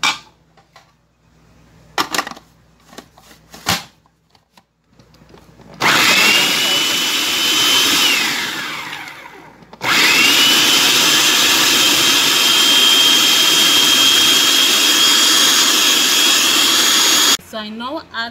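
A food processor whirs loudly as it blends garlic, hot pepper and shado beni. Two long steady grinding runs follow short clicks and bumps, with a brief pause between them.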